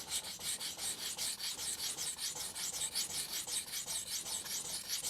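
A knife blade is drawn across a 1000 grit whetstone in quick, even rasping strokes, about four per second, close and fairly quiet with no voices.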